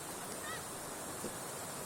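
Broadband rushing of river water at a riverside, a steady wash of flow noise filling the whole short stretch with no pauses.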